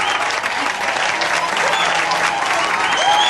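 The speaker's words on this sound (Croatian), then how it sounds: "Poslušajte sve te uzvike i taj pljesak." An audience cheers and applauds after a performance on a music show, with dense, continuous clapping and shouts filling the room at full volume.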